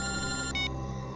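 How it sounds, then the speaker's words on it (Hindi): A telephone rings with an electronic trilling tone, close and moderately loud, one short burst cut off after about a second. "एसीपी साहब का फोन?"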